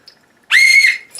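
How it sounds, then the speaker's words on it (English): A whistle blown once, a sharp, loud, clear shrill tone rising quickly and holding for about half a second before cutting off. "This is why you will be given a whistle at the convention."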